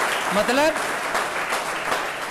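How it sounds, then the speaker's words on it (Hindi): Children give staff members a loud round of applause, a brief continuous patter of many hands clapping at once while an adult talks over it. "मैं चाहूँगा सभी बच्चों से एक बार स्टाफ मेंबर्स के लिए जोरदार तालियां बजाएं।"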